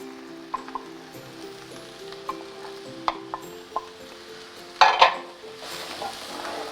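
Onions and garlic frying in a hot pan for burritos, giving a soft steady sizzle under scattered utensil clicks and taps, with a louder clatter of stirring near the end, close up and without talk.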